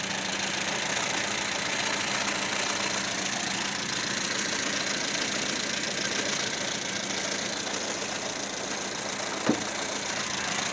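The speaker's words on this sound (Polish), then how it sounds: "Pod maską taki oto mały silniczek." A small engine in a Skoda Favorit idles steadily and close by, a constant even drone with no voices, broken only by one brief click near the end.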